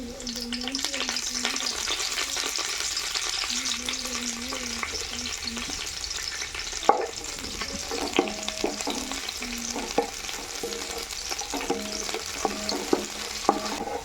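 Grated carrot pieces and curry leaves frying in hot oil for fish fried rice, a steady close sizzle with occasional stirring scrapes and clicks from a utensil in the pan.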